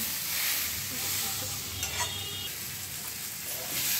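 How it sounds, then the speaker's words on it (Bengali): Boiled jackfruit and potato being stirred with spice paste in a wok, a continuous soft sizzle with scraping stir sounds, close and steady without speech. "এঁচোড় আর আলু সেদ্ধটা সব মশলার সঙ্গে ভালোভাবে নেড়ে মিশিয়ে দেওয়া হলো।"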